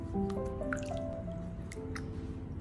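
Water drips and splashes in quick irregular plinks while a ginger root is rinsed clean, each drop bright and close, over a low wet background with no speech.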